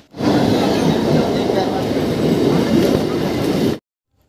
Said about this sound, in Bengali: আমাদের গদ্দা শিয়ালদা মেমু ট্রেন আসলো 2:33